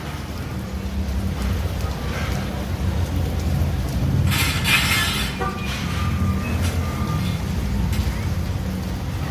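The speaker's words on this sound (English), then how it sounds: "now it's raining and it's messing with my walk" Rain falls steadily during a street walk in Pasacao, Philippines, as a constant broadband hiss over a low rumble, with a brief louder splash of noise midway.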